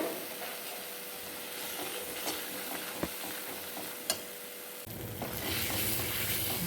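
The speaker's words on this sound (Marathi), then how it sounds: "आणि हे पुन्हा थोडंसं तेलावरती परतून घेणार आहे मी" An onion-garlic masala sautés in oil in a pan, turmeric added, giving a steady close sizzle broken by a couple of sharp utensil taps and scraping stirs, with the frying growing louder toward the end.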